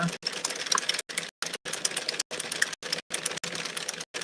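Rapid dry clicking from a hand-cranked machine, freshly tightened after running very loose, in bursts with brief pauses, close and fairly loud.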